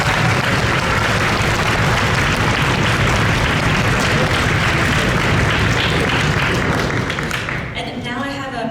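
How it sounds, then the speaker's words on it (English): An audience at a 2023 SCSBOA Honor Orchestra event breaks into sustained, loud applause that thins out near the end as a voice begins to speak. "So let's give them a round of applause."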